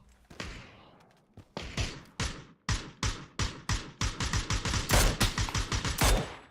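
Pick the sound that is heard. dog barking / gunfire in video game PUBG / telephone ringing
gunfire in video game PUBG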